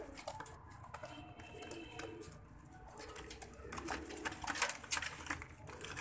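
Soft pigeon cooing in the background, repeated low calls amid faint rustling and ambient noise.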